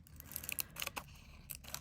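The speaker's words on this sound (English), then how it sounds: "I prefer to trim it with a pair of scissors" Clean scissors snipping through a plastic chocolate wrapper, giving several short, crisp cuts at close range with quiet gaps between them.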